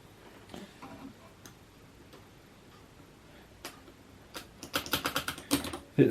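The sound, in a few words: IBM Selectric III typewriter keys being typed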